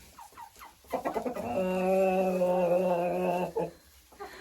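Hens in a backyard coop with nesting boxes give a drawn-out, nasal, tonal call lasting about two seconds, framed by shorter clucks before and after.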